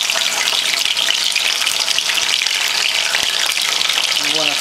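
Cheese frying in hot oil for a Dominican breakfast of mangu, eggs, salami and onion, giving a steady, loud, continuous sizzle and crackle that fills the whole stretch, with a brief low tone near the end.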